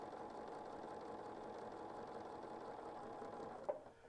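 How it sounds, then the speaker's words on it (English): A sewing machine fitted with a quarter-inch presser foot stitches quilt triangles together, a continuous, quiet, even whir that ends with a small click. "so now we're ready to sew this triangles together. Running that 1/4 inch foot right along my line."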